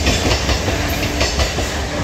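A long-distance express train thunders past on the adjacent track near Santragachi, heard from inside a moving train as a loud, steady roar of rail noise with rhythmic clickety-clack of wheels, no voices over it.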